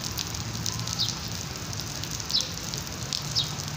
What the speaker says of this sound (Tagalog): And then it's raining pa.